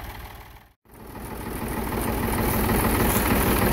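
A tractor engine runs during forest road repair. Its low, rhythmic drone breaks off briefly near the start, then returns and grows gradually louder and rougher.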